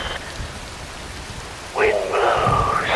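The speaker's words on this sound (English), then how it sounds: "Rain falls." Rain falls steadily in the Metal Gear Rising: Revengeance video game, a constant wash of patter that swells louder near the end as other bright game sounds join in, with no talk.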